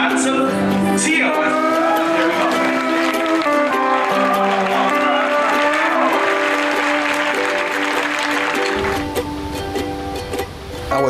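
A studio audience applauds as a contestant walks onto the stage of a dating game show, with loud, dense clapping lasting several seconds over music before it fades out.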